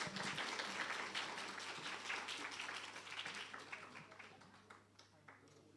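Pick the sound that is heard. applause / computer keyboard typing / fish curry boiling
applause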